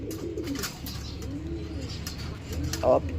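Pigeons coo softly and repeatedly in low, rolling calls over faint background noise.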